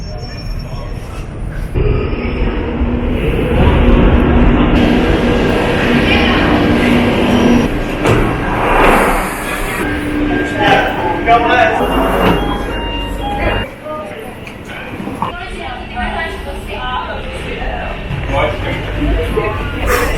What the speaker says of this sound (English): get back on the hot subway